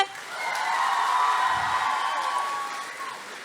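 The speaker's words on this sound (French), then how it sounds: "Est-ce qu'on peut l'applaudir bien fort, s'il vous plaît?" Audience applauding and cheering at a cosplay contest on stage at a convention in Rouen, a steady broad wash of clapping with whoops that swells and fades over a few seconds.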